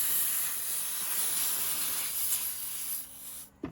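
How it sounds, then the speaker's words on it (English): Air is purged from a refrigerant line on a Carrier Infinity system's recovery setup, giving a steady, loud, broad hiss that holds for about three seconds and then fades and sputters out. "I'm going to open up purge the air out."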